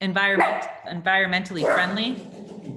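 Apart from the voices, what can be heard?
dog barking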